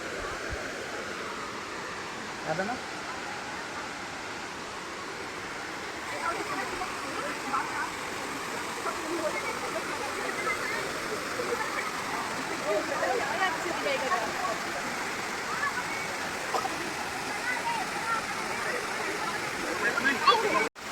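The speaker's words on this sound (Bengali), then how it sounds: "ঝর্ণাটা কিন্তু অনেক উঁচু থেকেই পড়ছে" A tall waterfall near Jagdalpur plunges from a great height, producing a dense, steady roar of crashing water that fills the whole stretch without letting up.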